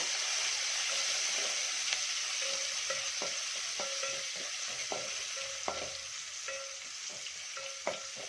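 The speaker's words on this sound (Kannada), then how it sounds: "ಈಗ ಚೆನ್ನಾಗಿ ಈರುಳ್ಳಿನ ಫ್ರೈ ಮಾಡ್ಕೊಳ್ಳೋಣ" Sliced onions fry in a pan over a low flame. A steady, soft sizzle runs throughout, and light scrapes and taps from stirring recur at intervals.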